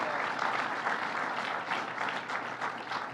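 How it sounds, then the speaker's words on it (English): A ceremony audience applauds at a transit hub completion announcement, a steady dense wash of many hands clapping at moderate distance, continuous throughout with no talk over it. "Let's give her a round of applause."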